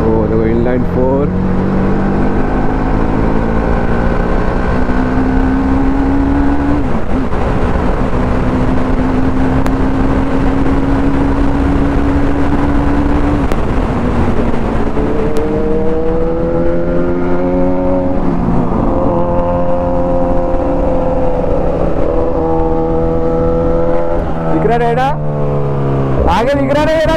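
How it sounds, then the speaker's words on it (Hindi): An inline-four motorcycle engine revs steadily while riding on a road, a loud continuous drone with rising and falling pitch that changes with the throttle, mixed with wind roar. "वो देखो इनलाइन 4"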